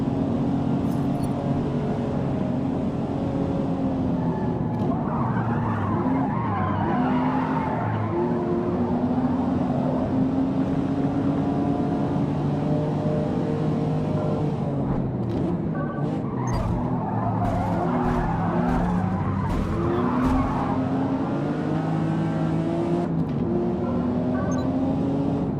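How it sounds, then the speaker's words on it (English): A car drifts in a racing video game, its engine droning steadily while tyres squeal and skid in long sweeping waves, with a few sharp clicks and knocks near the end. "there's a part of my brain can't wait to see what this car drifts like"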